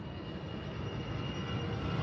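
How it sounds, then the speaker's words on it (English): A Globemaster military transport aircraft flies past, its steady broad engine roar holding nearly level and gradually swelling over the short stretch, with no other sounds on top. "So that's the Globemaster right there"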